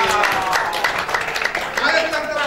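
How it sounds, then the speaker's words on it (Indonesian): A church congregation claps together in a dense, steady patter of applause lasting the whole moment, with voices calling out over it. "tepuk tangan dulu dong"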